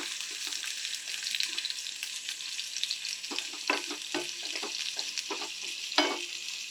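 Garlic and onion fry in hot oil for a paneer gravy, a steady close sizzle with repeated scraping stirs of a spoon in the pan, and no talk.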